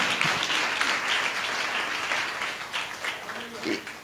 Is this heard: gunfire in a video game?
no